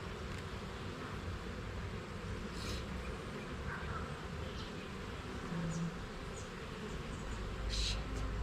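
Honeybees hum in a dense, steady drone during a hive inspection, a soft continuous buzz with occasional closer passes and faint background noise.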